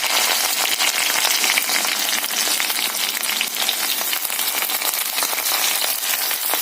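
Green chilies, ginger and garlic fry in hot oil for an egg roast, giving a dense, steady crackling sizzle up close with no voices.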